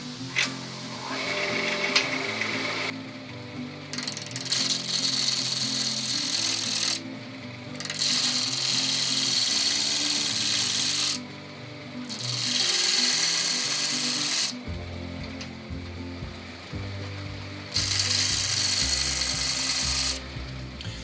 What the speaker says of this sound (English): I need to turn it round. Got a nice sharp bowl gouge